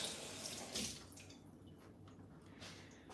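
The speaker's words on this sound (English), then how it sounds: "Now I'm gonna rinse this off." Water from a kitchen tap runs over something being rinsed in the sink, a steady close splashing stream that shifts in tone as the item moves under it, with no talk.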